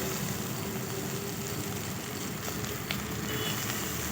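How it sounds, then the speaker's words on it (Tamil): Okra and onion sautéing in a pan for a Tamil tamarind curry, giving a steady, soft sizzle and crackle that stays constant throughout with no voices over it. "வெண்டைக்காயும் அதே சமயத்தில் நல்லா வதங்கி வந்துடும்."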